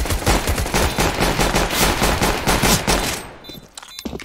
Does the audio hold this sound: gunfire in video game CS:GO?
yes